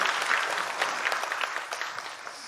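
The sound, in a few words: church congregation applauding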